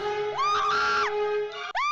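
Shrill, sustained screaming from an animated video, rising and wavering in pitch, loud and close, breaking off briefly before a second rising scream.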